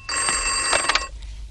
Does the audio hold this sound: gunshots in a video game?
no